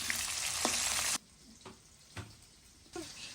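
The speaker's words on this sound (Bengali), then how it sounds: "তেল গরম হয়ে গেলে আমরা পেঁয়াজ আর মরিচ দিয়ে দিব" Onions and chillies hitting hot oil in a wok, a loud close hiss that drops sharply after about a second into a quieter simmer, broken by a few stirring knocks.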